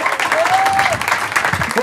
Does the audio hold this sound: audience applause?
yes